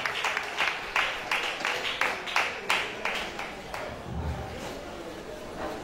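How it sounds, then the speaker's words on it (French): An audience applauds the jury president of a singing competition as he arrives, giving rhythmic, evenly pulsing group clapping that is fairly close and loud, with a voice present underneath. "cela mérite quand même des acclamations"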